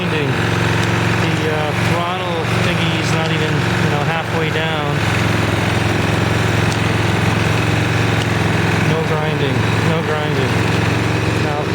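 A Toro Personal Pace model 20333 walk-behind mower engine runs steadily with the blades disengaged, a loud droning hum over a rear-wheel-drive grinding fault, while someone talks over it throughout.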